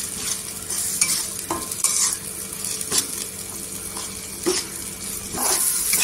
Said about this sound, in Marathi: इथे मसाला आहे ना तेलावर छान असा भाजून घ्यायचा